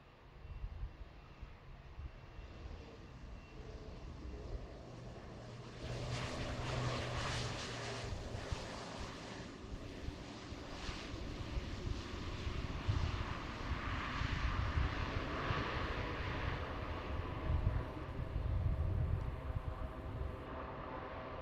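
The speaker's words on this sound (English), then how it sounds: "Hear those thrust reversers." A King Air 350 lands at Boeing Field with thrust reversers engaged, giving a sustained engine roar that swells and stays loud for many seconds, broad and rumbling at a moderate distance, with no voices.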